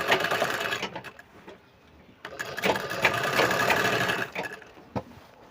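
A sewing machine runs in bursts while stitching a sherwani sleeve, with brief pauses between runs and a louder sustained stretch near the end; a close, mechanical rattle with no talking.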